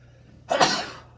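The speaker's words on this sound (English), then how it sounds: "You've been blessed with a sneeze" A single sharp sneeze, close and fairly loud, bursting out after a quiet moment.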